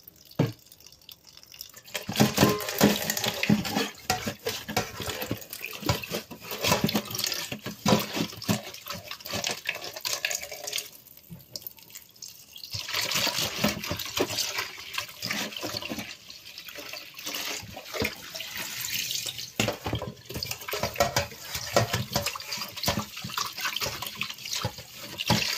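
A kitchen tap runs continuously while vegetables are washed by hand with washing-up liquid, giving a long steady splashing stream with shifting spatter.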